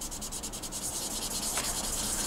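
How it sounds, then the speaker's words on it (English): Steady wet rubbing and scraping of a sanding stick on a model canopy's clear plastic seam lines, in circles, a continuous close hiss with faint rhythmic strokes. "Now as you're wet sanding, don't forget to do circles like I'm doing here."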